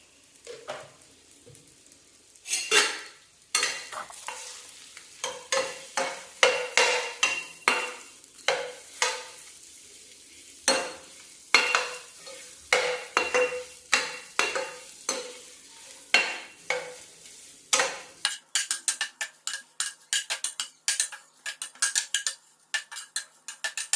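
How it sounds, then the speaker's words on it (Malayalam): Egg masala stir-fried with garam masala and salt in a pan: many sharp spatula scrapes and clinks against the metal come in quick, uneven bursts over a soft sizzle, loud and close, with no talking. "ഗരം മസാലയും ഇട്ട് കൊടുക്കുന്നത് ഒരര ടീസ്പൂൺ ഉപ്പ് കൂടി ഇട്ട് കൊടുത്തിട്ട് നമുക്ക് നന്നായിട്ടൊന്ന് വറുത്തെടുക്കാം"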